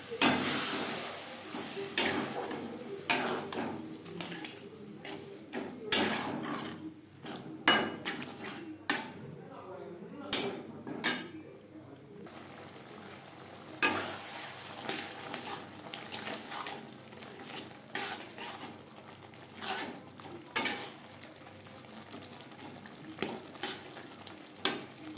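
Bengali spice paste for an echor chingri curry sautés with a little water, a soft sizzle under repeated sharp spatula knocks and scrapes against the pan, irregular and close throughout.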